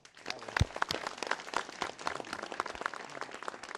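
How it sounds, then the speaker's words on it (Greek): Scattered audience clapping at a gathering, fairly faint and uneven, with a few voices and sharp knocks mixed in. "Τώρα χειροκρότημα."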